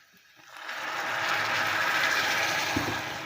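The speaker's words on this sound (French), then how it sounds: "Il me reste plus qu'à verser mon vin." Wine is poured into a hot frying pan of chicken liver and onions, bursting into a loud, steady sizzle that rises within a second and holds close up.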